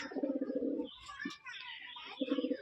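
Machranga performing pigeons coo close by in two throaty bursts with a short pause between, and faint chirps mixed in.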